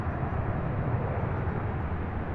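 An arriving airliner in from Las Vegas lands at Louisville International Airport, its engines a steady, fairly loud broadband roar that holds even throughout with no voices over it.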